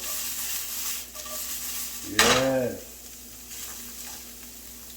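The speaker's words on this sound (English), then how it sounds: "That sizzle?" Food sizzles and crackles in a hot pan, with a short metallic scrape of a utensil partway through and a brief word spoken.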